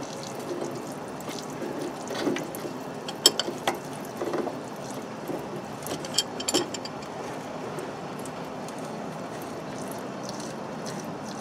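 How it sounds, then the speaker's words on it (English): A fuel filter retention nut is loosened by hand tool on an Isuzu NPR/NQR/NRR truck while fuel drains, giving scattered close metallic clicks and ratcheting over a soft background trickle, no talking. "I'm just going to go ahead and loosen this filter retention nut."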